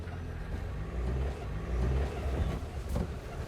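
A safari vehicle in Bandhavgarh National Park is switched between four-wheel and two-wheel drive, its engine giving a steady low rumble that swells as it revs, close and continuous, without talk.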